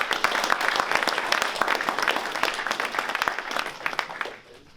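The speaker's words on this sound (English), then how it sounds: "So give yourselves a round of applause." Group applause for a graduating class, a lively burst of many hands clapping with a few shouts, holding strong before fading out in the last moment.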